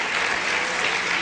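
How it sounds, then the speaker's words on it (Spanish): Church congregation clapping steadily for the Lord in a brief, dense burst of applause at even loudness, with no voices on top. "Le damos un aplauso al Señor por la explicación tan clara que nuestro hermano"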